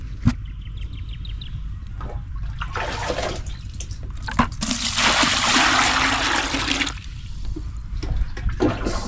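A bucket of water pours onto freshly cut plant stems, a steady splashing gush of a few seconds after scattered drips and trickles, with a bird faintly audible in the background.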